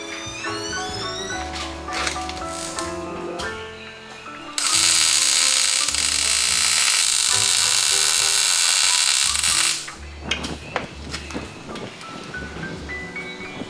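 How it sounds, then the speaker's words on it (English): Nuts for adjustable steering stoppers are welded on a street rod: a loud, dense crackling hiss lasting about five seconds, framed by clattering mechanical noise and tonal hum before and after. "You got to be very, very careful when you're welding this due to the fact that you don't want to weld the two nuts together."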